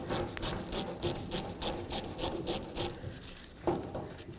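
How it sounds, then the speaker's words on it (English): Repeated rhythmic scraping and rasping strokes while working a hose clamp loose on the fuel tank hose of a Chevy C/K1500 pickup, about a dozen even pulls, close and fairly quiet. "Now let's go ahead and remove this hose clamp right here."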